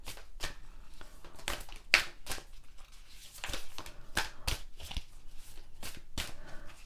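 A tarot card deck being shuffled by hand at close range, a series of crisp riffling and slapping bursts repeating at uneven intervals, with no talking.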